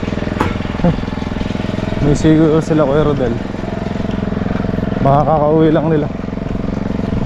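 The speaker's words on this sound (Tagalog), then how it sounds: "So mga kabady, mag-grass cutter tayo." A grass cutter engine drones steadily on a farm, a constant mechanical hum running under close conversation throughout.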